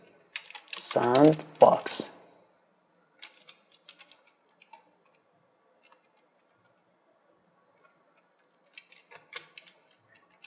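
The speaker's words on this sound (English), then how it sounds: "You can type it Windows" Sparse, light key clicks on a computer keyboard come in short clusters with long quiet gaps. A voice speaks briefly at the start, and a quick flurry of keystrokes closes the passage.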